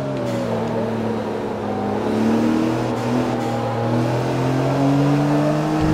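A car engine revs and accelerates steadily in Forza Motorsport 3 during a coupe road test race, its rising harmonic whine loud and continuous for the whole stretch with no talk.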